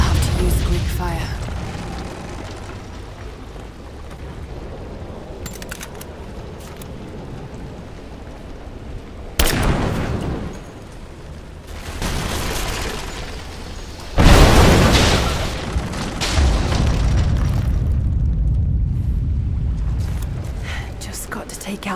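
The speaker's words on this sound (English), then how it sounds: "Looks like I'll have to use Greek fire." Greek fire vessels blow up in Rise of the Tomb Raider while the character brings down an unstable statue. Two heavy, booming blasts break through a low rumbling ambience, each followed by a sustained roar, with occasional voices in between.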